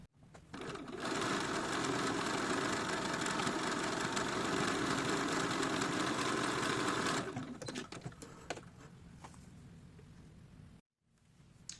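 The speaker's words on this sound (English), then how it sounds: "Top stitch along the top of your dress, and that will keep the facing down" A sewing machine topstitches along the top of a small doll dress, one continuous loud, close run of about six seconds, then stops to leave faint handling clicks and a pause.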